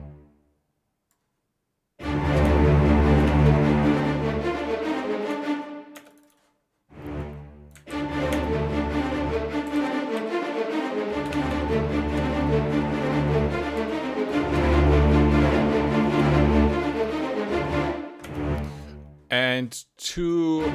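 Sustained low sampled double bass notes from Kontakt hold steady in long, overlapping tones, with a short gap early on and a brief break near the end.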